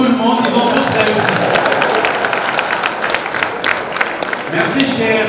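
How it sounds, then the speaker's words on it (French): Schoolchildren at a school quiz contest applaud everyone for passing, with dense, sustained clapping from a large group of pupils close by, lasting several seconds before thinning out at the end. "On applaudit pour tout le monde, ils ont tous réussi."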